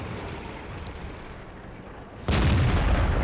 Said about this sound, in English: Manages to miss, but that's not difficult at anything other than point blank range with that 90mm gun